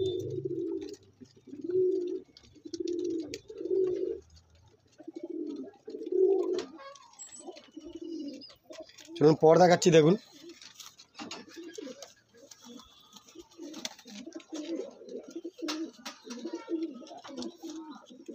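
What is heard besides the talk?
Andhra pigeons cooing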